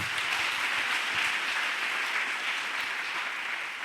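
A church congregation applauds in praise, a steady, dense wash of many hands clapping together that stays fairly loud and even without a break.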